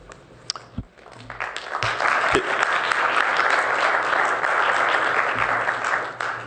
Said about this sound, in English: There'll be no applause.